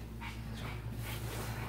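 A neutered dog with missing front teeth whimpers softly in a few short, high whines over a steady low background hum, close by but faint.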